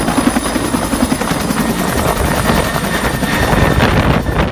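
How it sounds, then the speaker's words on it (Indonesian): A helicopter's loud, steady rotor chop and engine roar fill the whole stretch, close and continuous with no talking over it. "lihat teman-teman, ada helikopter"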